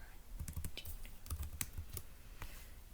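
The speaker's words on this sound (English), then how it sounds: "I'm going to go ahead and type that in." Keys clatter on a computer keyboard while an email address is entered during an Exchange server mail setup, a short uneven burst of close, quiet keystrokes with a few louder taps and no voices.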